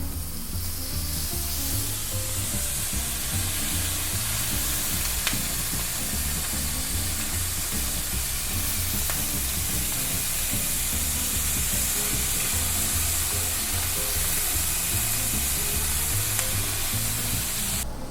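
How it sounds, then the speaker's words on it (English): Tempeh cooks in a pan as marinade is spooned over it, giving a constant loud sizzle and hiss with light frying crackle, steady throughout and free of talk. "we're going to spoon some of the marinade over it, let it cook for another 30 seconds"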